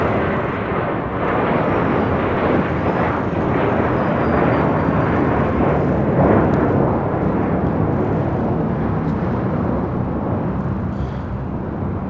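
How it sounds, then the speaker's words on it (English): An American Airlines A321 takes off, its jet engines roaring loudly and steadily throughout, a broad continuous rumble with no break. "This is American Airlines Flight 274 taking off to JFK on an A321."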